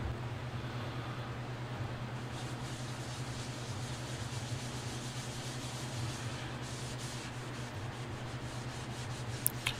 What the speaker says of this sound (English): So I sanded up to 500 grit again, and I'm hitting it with the Axe abrasive paste.